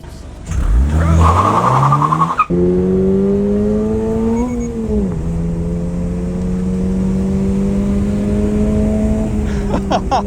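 A Toyota GR86 is driven hard on a twisty road. Its engine barks, then climbs steadily in pitch through a long, loud pull and eases off near the end, heard from close by.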